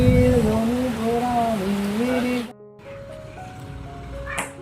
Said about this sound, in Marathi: जोरात पाऊस बघा इकडे बघा पुन्हा रस्त्याला पाणी